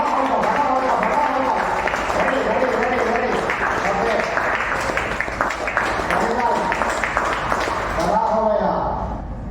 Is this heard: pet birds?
no